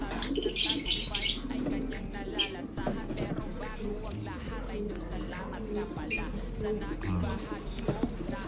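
Pigeons cooing and fluttering inside a loft while someone talks near and steady throughout, with occasional wing flaps and soft rustling in the background.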